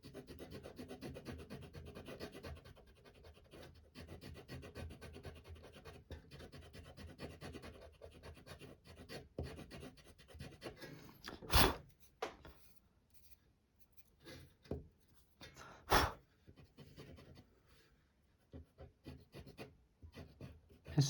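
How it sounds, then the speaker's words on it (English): An eraser rubs across a charcoal drawing of a lighthouse, making steady soft scratchy strokes up close, with a few sharper taps and brief pauses between bursts of rubbing. "this is what you draw with your eraser"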